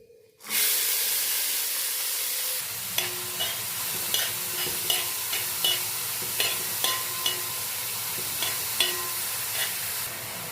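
A chopped mix of ginger, garlic, green chilli, carrot and onion hits a hot pan with a sudden loud hiss that settles into a steady sizzle, punctuated by rhythmic spatula taps against the pan.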